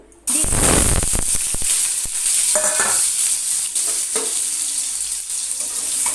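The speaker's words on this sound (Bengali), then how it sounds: "আলুগুলো ভালো করে ভেজে নেব" Cut potato pieces drop into hot mustard oil for an egg omelette bhurji, bursting into a loud, close sizzle that settles into steady frying crackle with occasional stirring scrapes.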